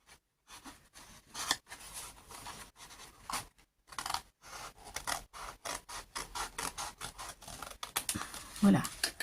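Scissors snip through paper card for an autumn surprise card-box craft, a series of quick, close, crisp cuts and rustles in uneven bursts, with faint handling noise between them.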